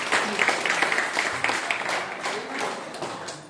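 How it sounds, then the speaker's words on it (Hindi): A gathered audience applauds loudly for Rajesh, with scattered, uneven claps rising early and tapering off toward the end, and some voices talking underneath. "जोरदार तालियां राजेश भाई साहब के लिए"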